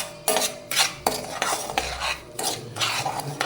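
Sugar stirred into a no-bake oatmeal cookie mixture in a pot, steady spoon scrapes and clinks against the metal in uneven strokes, close and clear with no voices.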